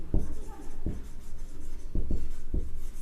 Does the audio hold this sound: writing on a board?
yes